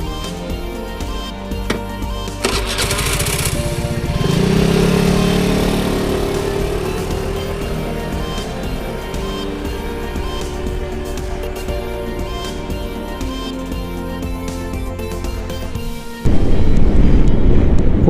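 Motorcycle fitted with Asahi Fuubou side visors, riding at speed: a steady engine drone under rushing wind noise for most of the ride, then a sudden louder burst of wind buffeting near the end.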